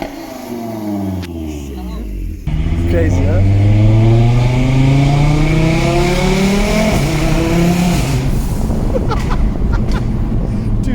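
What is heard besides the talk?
Audi RS3 engine revving loudly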